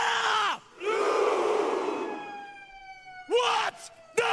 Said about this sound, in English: What is that siren? Is the police there?